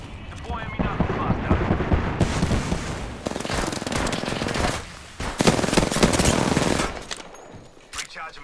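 Rapid automatic gunfire rattles in dense bursts during a shooter video game, with short pauses between volleys, loud and close.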